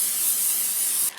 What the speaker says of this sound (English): I'm still going to spray it with a little bit of cooking spray just to make sure it doesn't stick.